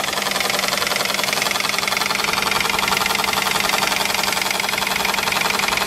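A 3D-printed Pelton turbine spins under a water nozzle jet, giving a steady, loud, continuous whirring hiss with a fast fine pulsing throughout, no voices.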